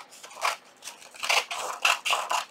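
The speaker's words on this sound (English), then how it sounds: "where are my scissors? Right here. I'm going to trim this right here." Scissors snipping through paper while trimming a junk journal page, a quick series of crisp cuts with short pauses between, close and clear.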